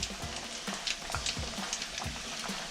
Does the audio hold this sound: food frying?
yes